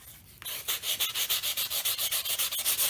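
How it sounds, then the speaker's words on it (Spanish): Medium-grit sandpaper rubbing over a wooden ice cream scoop during restoration, a quick run of regular back-and-forth rasping strokes, close and steady after a brief quiet start. "voy a utilizar una lija de grano medio y terminaré siempre con una lija un poco más fina"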